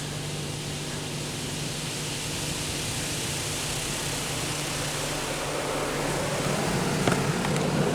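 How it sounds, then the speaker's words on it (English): Steady loud hissing rush of pressurized water spraying in a Washtec SoftCare2 Pro car wash, a dense continuous roar that swells slightly toward the end, no talking. "So now we've got a high pressure wash."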